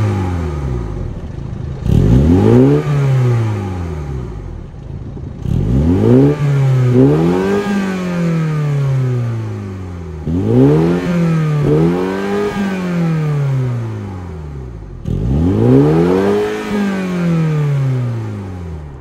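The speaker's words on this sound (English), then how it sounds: "that was the sound of the 2-liter twin power turbo four cylinder derived from BMW" A BMW-derived 2-liter TwinPower turbo four-cylinder in a 2024 Mini Cooper S Hardtop revs four times, each blip rising sharply then falling back to idle, loud and close with no talking.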